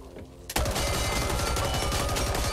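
Rapid shotgun blasts from a long-range, long-barrel shotgun in the video game Back 4 Blood erupt after a brief quiet lead-in, firing in a fast, loud, continuous burst.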